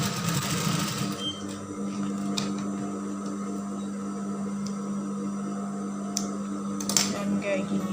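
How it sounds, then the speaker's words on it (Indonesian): A sewing machine stitches back and forth on baggy pants, giving a steady fast mechanical whirr with a constant hum, close and moderately quiet, with a few sharp clicks near the end. "Kita jahit berulang supaya tidak lepas."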